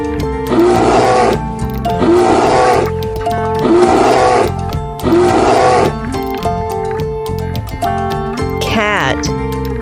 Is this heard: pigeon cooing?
no